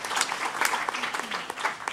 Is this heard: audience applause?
yes